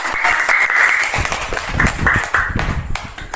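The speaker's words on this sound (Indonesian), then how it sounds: "kita berikan aplaus untuk teman kita" A classroom of students applauds a classmate after a group-work presentation during a teaching practice lesson. The clapping is dense and steady at first, then thins into scattered claps as it fades.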